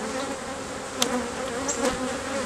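Honeybees buzz steadily throughout at an open hive frame, a close, continuous hum with a couple of brief higher whines passing by.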